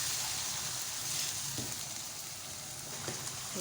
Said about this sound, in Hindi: अब हम इसे अच्छे से फ्राई करेंगे 1 मिनट के लिए।